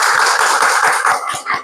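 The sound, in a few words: audience applause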